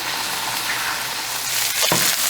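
Shrimp fry in a hot pan with a loud, dense, continuous sizzle, close up, briefly swelling near the end as though stirred, with no talking.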